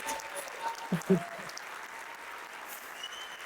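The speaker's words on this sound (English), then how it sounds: "You guys can clap." Live audience clapping at a business talk, moderate and fairly distant, mixed with a few brief voice sounds and cheers early on before settling into a steady low patter.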